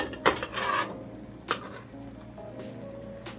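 Pot lid set down to cover brown stew fish, a sharp metallic clank followed by a second clatter a moment later, close by, with a faint kitchen hum in between.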